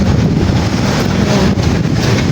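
Strong wind buffets a handheld microphone outdoors in Baguio, a loud, steady rumbling roar that covers the whole stretch without any voices.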